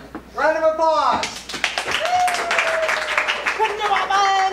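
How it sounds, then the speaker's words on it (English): Audience clapping for a Wonder Woman contestant at a Halloween costume contest, loud dense claps running through, with a host talking and voices over it near the start. "Round of applause."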